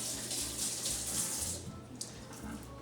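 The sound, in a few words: rinsing fresh basil under running tap water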